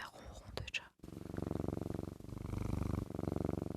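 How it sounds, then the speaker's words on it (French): A cat purrs close to the microphone in a steady, rhythmic rumble of repeated breaths, with a soft voice heard briefly before the purring begins. "ASMR ronron de chat."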